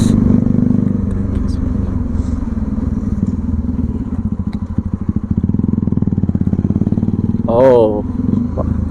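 A modified 2013 Bajaj Pulsar NS200 idles with a steady rumble, then fires off a rapid run of sharp popping and crackling exhaust bursts up close, with a brief whine and a voice talking now and then.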